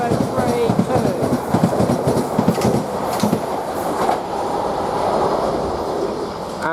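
A South Western Railway train, a London Waterloo to Weymouth service, runs through Basingstoke station, its wheels clattering rhythmically over rail joints with a loud, steady rumble throughout.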